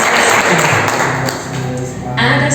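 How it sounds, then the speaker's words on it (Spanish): A church congregation applauding, a loud broad rush of clapping that dips slightly midway and swells again, filling the short moment without clear talk. "Denle un fuerte aplauso al Señor."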